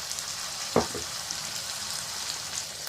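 Tomatoes drop into ginger garlic paste frying in a pan, giving a brief thump and burst of sizzle amid a steady, moderate frying hiss.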